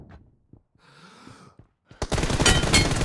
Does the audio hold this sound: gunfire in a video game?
yes